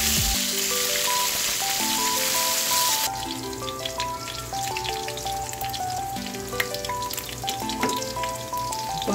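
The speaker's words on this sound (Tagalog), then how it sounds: "Ready to fry na ang ating homemade spam." Slices of homemade spam luncheon meat fry in a pan with a crackling, popping sizzle that starts a few seconds in, heard under background music.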